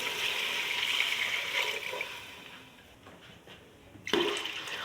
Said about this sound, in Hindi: अभी पानी ऐड करती हूँ।